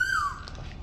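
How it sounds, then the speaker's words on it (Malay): A single loud bird squawk opens with a sharp descending call, then fades into quieter chirps and soft background noise. "Nostalgia bunyi burung."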